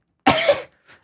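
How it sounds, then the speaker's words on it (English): A single sharp, close cough bursts out and then trails off, followed by a faint breath, with nothing else around it. "I had to cough."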